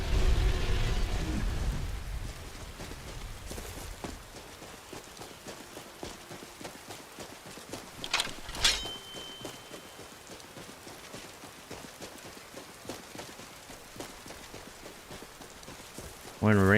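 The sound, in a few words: rainstorm in Skyrim video game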